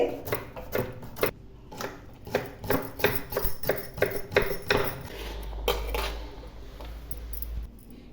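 A knife slices vegetables lengthwise into strips on a cutting board for egg fried rice: a steady run of sharp, close taps and scrapes, then a quieter stretch with a low hum.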